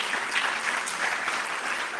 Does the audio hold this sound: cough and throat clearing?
no